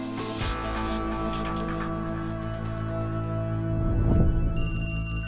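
A telephone rings with a sustained electronic bell tone over a steady low hum and drone, loud and close, with no voices.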